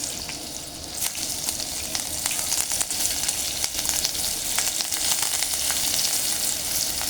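Green chilies frying in hot oil with cumin seeds, a steady close sizzle with crackling pops and occasional stirring, no voices over it.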